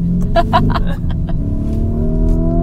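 A Lamborghini Huracán Evo or Urus driving on spiked tires, its engine a steady close droning hum, with a few sharp ticking clicks near the start.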